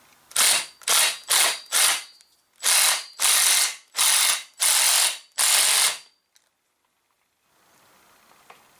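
An impact wrench tightens the clutch on a Stihl 029 chainsaw with eight loud, close bursts of rapid hammering, each about half a second long, separated by short gaps and followed by quiet.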